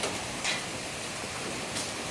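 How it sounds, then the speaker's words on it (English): Steady rain falls outdoors during a big storm, a constant broadband hiss of drops on surfaces with a couple of slightly louder gusts, no voices. "Come on in out of the rain, Apache."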